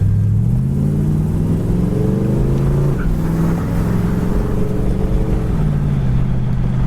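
A 1972 Buick Skylark GS convertible drives steadily, its engine note rising and falling as the transmission shifts through gears, with a slight first-gear scratch on the shift; a continuous close rumble with no voices.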